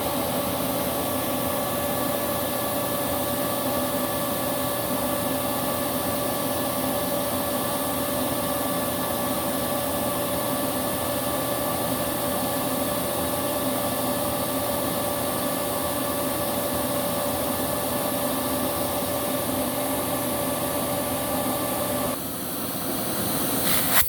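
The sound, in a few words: Nacecare RSV 130 backpack vacuum running, airflow test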